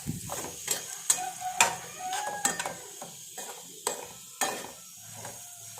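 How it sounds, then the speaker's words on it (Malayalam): Chickpeas sizzle in hot oil for kadala mezhukkupuratti, close up, with a steady crackle broken by repeated sharp scrapes and clinks of a spoon stirring in the pan. "കടല മെഴുക്കുവരട്ടി വയ്ക്കുമ്പോൾ ഉണ്ടല്ലോ ആ എണ്ണയ്ക്കകത്ത് കിടന്ന് കുറച്ച് സമയം ഇങ്ങനെ ഫ്രൈ ആവണം"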